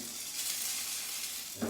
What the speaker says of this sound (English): So I hear that kind of sizzling noise.